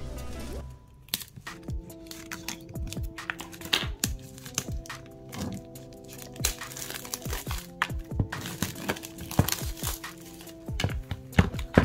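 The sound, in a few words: opening a tarot card deck's wrapping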